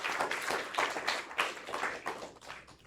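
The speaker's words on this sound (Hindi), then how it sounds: "तालियां होनी चाहिए।" Faint, somewhat uneven clapping from a studio audience at a regional quiz show, with separate claps audible in loose rhythm rather than a dense roar.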